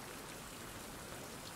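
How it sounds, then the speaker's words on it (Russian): Rain falling in the survival video game Survival: Fountain of Youth, a steady, even hiss of rainfall that fills the short stretch alone. "Ага, еще и дождь пошел, спасибо."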